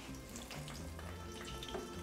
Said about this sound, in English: we can pick up the eggplant and place it in the hot oil.